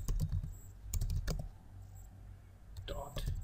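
Clicky computer keyboard typing while entering Selenium Java test code, with short bursts of keystrokes near the microphone separated by pauses, over a low steady hum.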